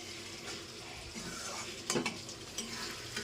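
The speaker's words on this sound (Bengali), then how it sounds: "এবার আমি এর মধ্যে সেদ্ধ করা আলু আর পেঁপেটা মেশাবো" Meat curry in a pot, mixed with boiled potatoes and papaya, gives a soft continuous stirring scrape over a faint oily sizzle, with a sharper clink of spoon against the pot near the middle.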